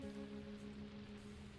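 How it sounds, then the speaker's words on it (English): Steady rain falling in the Minecraft: Story Mode video game, a soft continuous wash of drops heard alone, with a low hum running underneath. "Is it raining inside?"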